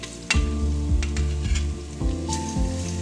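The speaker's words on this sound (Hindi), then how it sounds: "तो अभी हम इसमें लहसुन और अदरक का पेस्ट डालेंगे।" Garlic and ginger paste frying in oil with browned onions, a loud, steady sizzle with rhythmic stirring scrapes about every half second, close up, with no talking.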